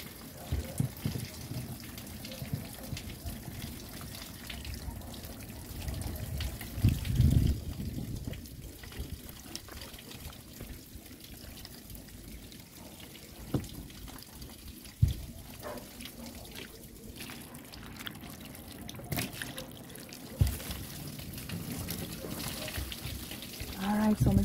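Tap water runs steadily over yellow yam and sweet potatoes being washed at a sink, a continuous trickling and splashing interrupted by a few clunks, with occasional talk over it.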